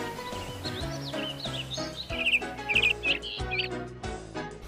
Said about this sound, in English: Belle heard the birds singing.